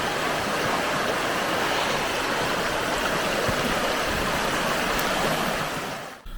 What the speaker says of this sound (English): all we listened to all night long was that beautiful river.